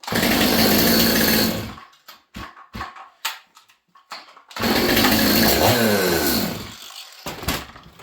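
A bogging Stihl MS200T climbing chainsaw running in loud, high-pitched bursts, cutting out and sputtering between revs, then roaring again before dying off near the end.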